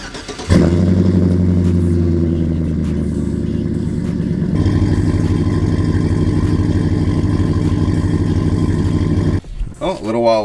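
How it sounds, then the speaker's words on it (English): Truck engine cranking over and catching on a cold start, then settling into a loud, steady, rumbling idle close by for several seconds before cutting off abruptly near the end. "let's get a little cold start on the truck and then get out of here"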